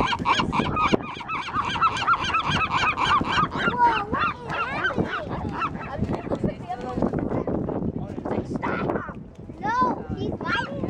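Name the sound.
seagulls fighting and squawking on a pier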